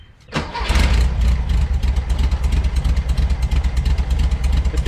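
A 1964 Volkswagen Beetle with a Porsche exhaust cranks and fires up, settling into a loud, steady, throaty idle close by with a rhythmic lumpy pulse.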